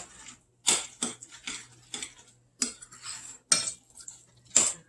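A utensil scrapes and clinks against a bowl in short, regular strokes while dog food is stirred together with powdered greens and broken-up bacon, close and crisp with quiet gaps between strokes and no talk.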